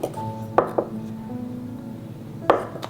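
A knife chops a carrot into thin slices on a cutting board, with two or three sharp, separate knocks against the board spaced out over a few seconds and a faint background hum between them.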